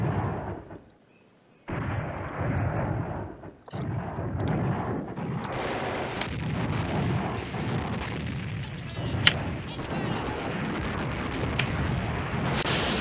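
Airstrike explosions in the World War II wargame Command Ops 2 at Arnhem: after a brief lull, a long, dense roar of booming blasts and rumbling artillery continues steadily, with a few sharp cracks.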